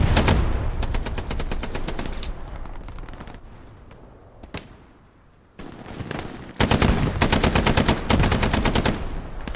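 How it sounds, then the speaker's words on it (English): Automatic gunfire in the World War II shooter game Hell Let Loose, with loud rapid bursts of machine-gun fire, a quieter lull with a single distant shot, then another long sustained burst, with no talking. "I'm just firing at this point."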